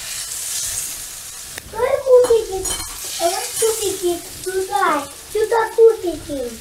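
Zucchini sizzles steadily in a hot frying pan, a soft continuous hiss running beneath people talking close by.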